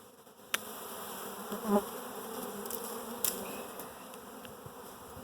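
A honeybee swarm buzzes in a continuous close drone, with a few clicks and rustles as it is being caught.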